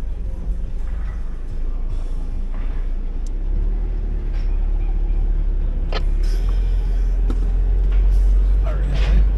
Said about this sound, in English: so it's going to pop it into four-wheel drive low range here